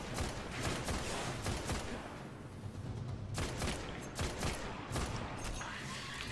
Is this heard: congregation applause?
no